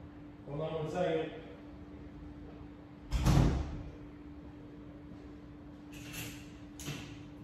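A front door is knocked on and then opened indoors: a sharp, loud knock burst in the middle, followed by quieter clicks and thuds of the door opening, with a voice talking briefly beforehand.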